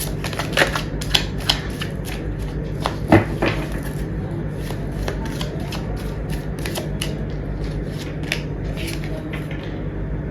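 Tarot cards shuffled and handled by hand, giving a run of quick crisp riffling clicks and soft slaps, close up, over a steady low background hum, with no talking.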